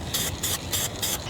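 Short bursts from an aerosol spray can while masking a cargo camper trailer against overspray: four quick, evenly spaced hissing puffs, close and fairly loud, with no talking.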